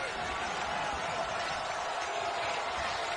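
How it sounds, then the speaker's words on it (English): A college women's basketball crowd at College Park, Maryland, fills the arena with steady dense noise, with faint ball bounces beneath and a commentator's voice running over it. "Crowd gets a little louder here in College Park"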